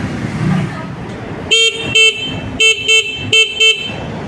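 A SYM NAGA 150 motorcycle horn honks in a series of short, loud blasts, about six beeps in an irregular rhythm, starting after a moment of low background rumble.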